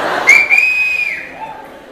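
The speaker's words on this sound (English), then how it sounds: "there's another guy whistling at" A man whistles a single sustained rising then gliding note over faint crowd noise, brief and fairly close, while a TV comedy channel plays.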